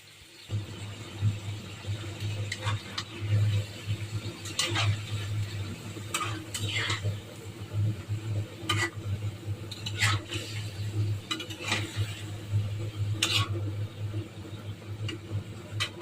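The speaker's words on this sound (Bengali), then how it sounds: "এখন মুরগির মাংসগুলি ভেজে নেব।" Marinated chicken pieces fry and get stirred in a pan with a steady sizzle, while spoon scrapes and clinks against the pan ring out at irregular moments over the full stretch.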